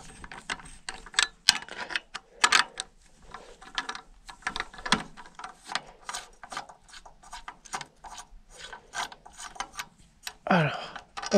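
A ratchet clicks in short irregular bursts, close and moderately loud, while small bolts come out of the timing assembly on a Super Pony tractor engine, with a few louder knocks and scrapes and no talking.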